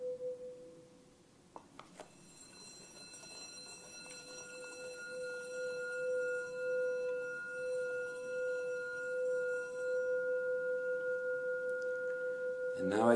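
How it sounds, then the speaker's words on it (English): A singing bowl rubbed with an aspen wood mallet swells into a sustained ringing drone, a steady fundamental joined by a higher overtone, growing louder over time and heard alone up close. "And now I can hear two tones playing at the same time, my fundamental tone and the higher pitch tone"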